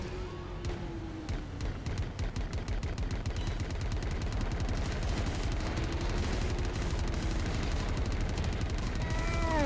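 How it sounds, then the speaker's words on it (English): Heavy weapon fire in the space shooter Everspace 2 (Titans DLC, Leviathan battle) as a siege cannon is used: dense, continuous rapid bursts and impacts, loud and sustained throughout with sweeping tonal effects, no talk. "So let's go use this new siege cannon."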